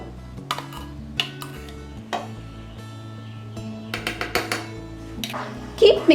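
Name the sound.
stirring butter chicken gravy with cream in a pan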